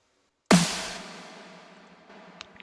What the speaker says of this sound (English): These are the snare sounds